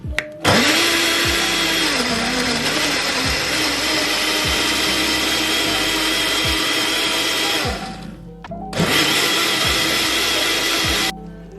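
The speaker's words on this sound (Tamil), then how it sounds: "இதை அப்படியே மிக்சியில் போட்டு அடிக்க வேண்டியதான். சால்ட் போட்டு அடிக்கணும்." A kitchen mixer grinder blends tomatoes with salt and a little water, a loud steady whirring roar with pitch dips as the jar contents shift, briefly cutting out before a second burst and stopping.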